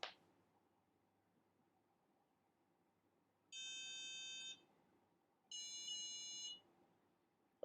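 Two separate one-second electronic buzzes, high and piercing, from a buzzer in an Engino STEM robotics kit sound with a pause between them against a quiet, faint background hum.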